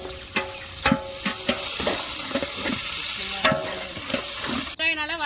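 Onions fry in hot oil with cinnamon, cloves, cardamom and other whole spices for a vegetable biryani: a dense, close sizzle punctuated by rhythmic stirring strokes, ending with a brief voice.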